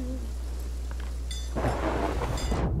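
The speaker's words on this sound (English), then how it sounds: "That was right next to our ship. That lightning bolt just I hit." Thunder from a lightning strike close beside a ship during a storm in the Sea of Thieves game, a loud sudden crackling boom bursting in over a steady low rumble of rain and sea.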